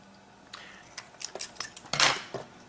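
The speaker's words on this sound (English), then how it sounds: "First, we're going to take our strip and we're going to cut it." Scissors snip through an LED strip light with a run of sharp, close clicks and cuts, several quick snaps clustering near the end.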